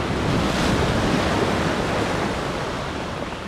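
Rough, churning surf breaks continuously against a rocky beach in Costa Rica, a loud, dense wash of water close by with some wind buffeting the microphone, and no voices.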